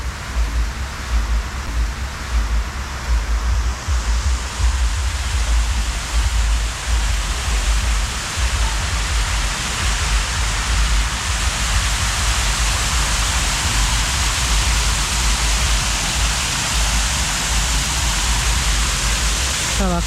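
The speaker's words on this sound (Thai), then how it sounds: "ถ้าว่าเขาจะเปิดน้ำพุในห้องน้ำเป็นน้ำตกแบบนี้" A steady, loud rush of falling water pours from an artificial waterfall fountain in a restroom area at a Vientiane night market, continuous and close throughout.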